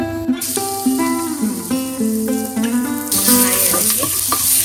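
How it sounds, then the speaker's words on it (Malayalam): Crushed garlic sizzling in hot oil with crackling mustard seeds for a spinach dal curry, a loud continuous fry with stirring scrapes and a sharper burst of sizzle near the end, close up. "കടുക് പൊട്ടി തുടങ്ങുമ്പോൾ നമുക്കതിലേക്ക് നമ്മൾ ചതച്ച് വെച്ചിരിക്കുന്ന വെളുത്തുള്ളി ഇട്ട് കൊടുക്കാം."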